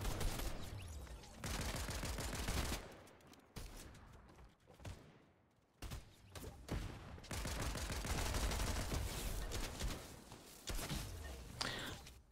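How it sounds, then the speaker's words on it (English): Bursts of rapid machine pistol fire in Fortnite rattle in long strings, broken by short gaps and lulls, loud and close. "Is that a machine pistol?"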